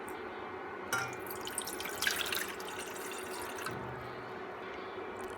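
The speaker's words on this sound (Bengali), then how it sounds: "প্যানে প্রথমে দিব 1 কাপ বা 250 ml পানি" One cup of water poured into a pan on the stove for faluda jelly, a faint, trickling splash with a couple of brief louder gushes, otherwise quiet and wordless.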